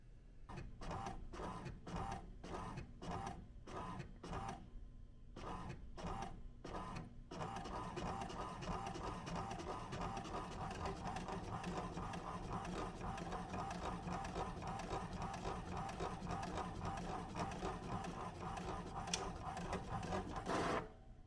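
An inkjet-style printer prints player cards for a board game: first a run of evenly spaced mechanical bursts as the head shuttles back and forth, then a long continuous whirring, clattering print pass, moderately close and with no talk.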